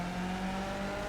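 A race car engine in the iRacing simulator, driven at Summit Point Raceway in a Skip Barber car, drones steadily with a continuous buzzing whine at an even pitch for about a second.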